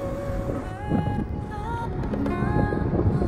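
Strong wind blows at Henry Island beach in South 24 Parganas, West Bengal, buffeting the microphone with a steady low roar. Faint tonal sounds drift through the gusts.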